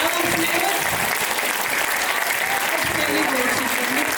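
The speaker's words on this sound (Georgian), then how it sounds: "კიდევ ერთხელ ჩვენს დებიუტანტებს ხუხარი აპლოდისმენტებით." Audience at a Georgian ensemble performance applauding the debutants, loud sustained clapping from a large crowd filling the hall, with a voice talking over it.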